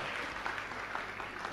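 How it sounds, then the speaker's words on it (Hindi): Audience applause for a helper being introduced at a religious discourse event, a steady patter of many hands clapping at moderate distance, with a few louder claps standing out. "तालियां, तालियां, तालियां इनके लिए भी।"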